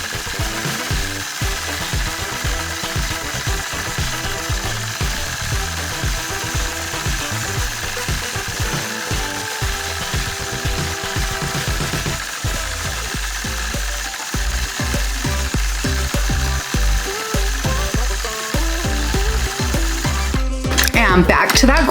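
A sewing machine stitching free-motion quilted pebbles buzzes steadily and continuously at close range, its rapid mechanical rhythm changing pace slightly toward the end.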